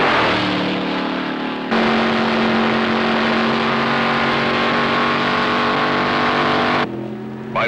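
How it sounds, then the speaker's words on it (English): Goodrich Corvette race car howling at high speed on the Mulsanne Straight, a loud sustained engine roar that cuts in abruptly and drops away near the end. "The Goodrich Corvette is capable of speeds of over 200 miles an hour on the Mulsanne Straight."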